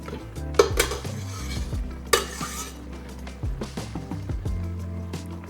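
Sauce with melting cream cheese stirred in a pan over medium heat, a spoon scraping and clinking against the pan in quick irregular strokes under a faint sizzle.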